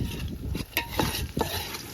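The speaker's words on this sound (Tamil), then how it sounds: "வெங்காயம் நல்லா பொன்னிறமா வதக்கணும்" Onions stirred and sautéed until golden for a village-style goat intestine fry, with a soft continuous sizzle and several scraping stir strokes of a spoon against the pan, close by and with no talk.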